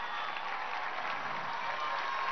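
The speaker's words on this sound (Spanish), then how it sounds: "Vamos a darle su aplauso" A crowd at an outdoor political rally in Plaza Bolívar applauds the nurses, a continuous even roar of clapping and cheering heard at moderate distance throughout.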